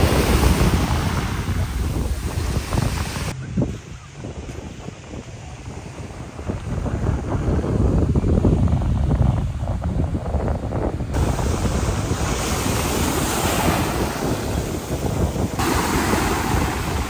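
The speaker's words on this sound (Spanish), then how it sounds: "el mar espectacular" Ocean waves wash onto Haulover Beach in Miami, Florida, a loud, continuous surf roar with wind buffeting the microphone and no voices.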